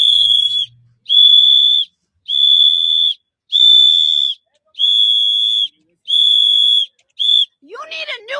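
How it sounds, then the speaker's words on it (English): A whistle is blown loudly in seven sharp, evenly spaced blasts, each about half a second, followed by a brief rising warble at the end. "Don't talk about my whistle."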